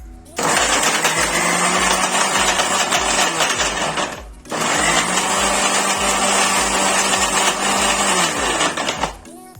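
A kitchen mixer grinder whirs loudly as it purees watermelon rind, running in two steady bursts of roughly four and five seconds with a brief stop between them.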